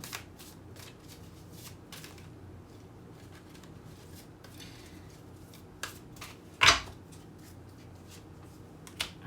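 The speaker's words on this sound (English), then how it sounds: "But it fell down so we could see this." Tarot cards are shuffled close by in soft, rapid riffling bursts, with one sharp slap or snap of cards partway through, and no talk.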